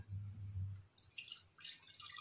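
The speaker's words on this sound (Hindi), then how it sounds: "आमर ये माटी हांडी रे प्रथमे आमे पानी पकेबा।" Water is poured into a clay cooking pot for a traditional temple-style Odia dish; a brief faint trickle and splash, quiet and close, with light dripping sounds.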